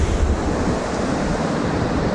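A fast, cold river in the Swiss Alps near Schilthorn Peak roars as a loud, dense, unbroken rush of water, mixed with wind buffeting the microphone and no voices.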